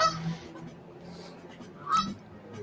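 Canada geese honking across a street, a few faint, scattered calls at a distance with quiet ambient noise between them.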